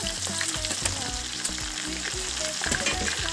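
Chicken frying in a pan with fried onions, a steady, close sizzle running throughout with bright crackling and a few scraping stirs.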